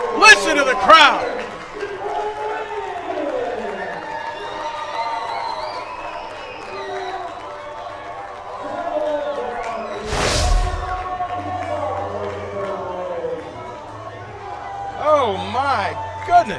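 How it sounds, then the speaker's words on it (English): Baseball crowd roaring and cheering after a walk-off single to left center field at a Lexington Legends home game, a sustained loud swell with whoops and clapping beneath an excited announcer talking throughout. "Listen to the crowd."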